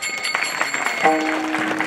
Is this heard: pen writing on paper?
no